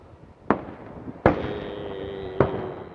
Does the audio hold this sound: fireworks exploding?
yes